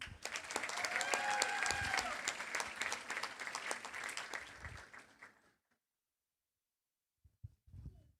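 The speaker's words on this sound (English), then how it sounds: "please let's give them another round of applause to congratulate our top 10 of the class 2026" Graduation-ceremony audience applauding the top ten of the senior class, a full, lively burst of clapping and cheering for about five seconds that fades out into silence, followed by a few faint sounds and a brief voice.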